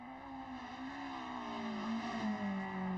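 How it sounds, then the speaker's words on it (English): Race car in a BTCC racing video game, braking hard into a corner with worn front tyres, a steady engine drone sliding down in pitch alongside a high tonal whine, fairly quiet and without talk. "You can hear Mike hard on the brakes, struggling to get that car stopped"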